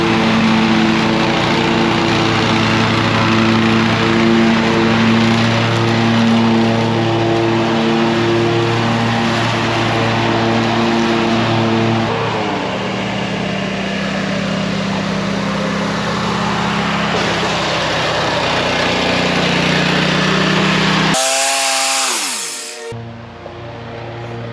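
An engine-powered string trimmer runs loud and close at a steady high-pitched drone while cutting, lasting about twenty seconds before it abruptly cuts out, with no one speaking.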